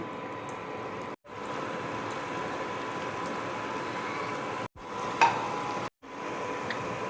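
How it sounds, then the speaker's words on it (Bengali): Paneer balls fry in hot oil in a kadai, giving a steady, dense sizzle that runs throughout, broken by a few brief silent gaps, with a small clink partway through. "এবার আমি এক এক করে তেলের মধ্যে ছেড়ে দিচ্ছি"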